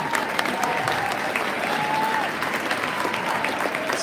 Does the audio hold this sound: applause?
yes